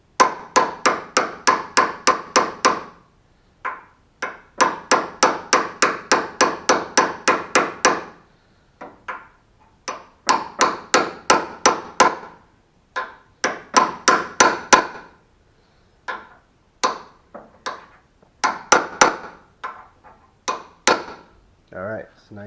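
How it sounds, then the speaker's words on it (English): Light metal chisel taps seating a door hinge pin on a 1989 Pontiac Firebird, a long run of quick sharp knocks in rapid bursts with short pauses, close and fairly loud, with no talk over them. "I'm using this little chisel over it and just kind of lightly tapping it."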